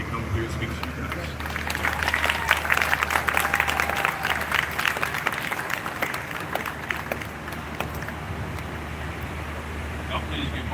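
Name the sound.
crowd applause at a protest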